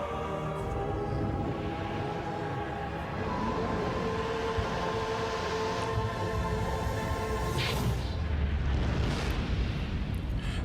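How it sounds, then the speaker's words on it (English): A World of Warcraft cutscene explosion: a sustained, loud broadband rumble with dense low roar and crackling layers over about ten seconds, swelling again near the end, with no talk over it. "That didn't look like a good explosion."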